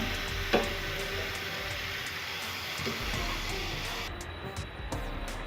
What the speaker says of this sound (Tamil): இப்போ பார்த்தீங்கன்னா இதை மறுபடியும் ஃப்ரை பண்ணி எடுக்க போடுறேன்